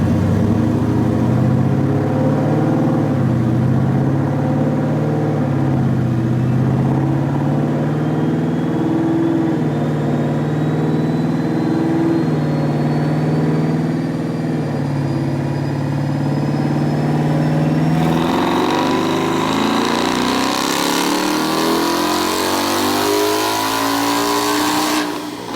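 A twin-turbo 2020 Mustang GT on a dyno roars at sustained full load, its rising engine note and turbo whine building steadily for about eighteen seconds before the pitch surges higher near the end, loud and continuous with no talking.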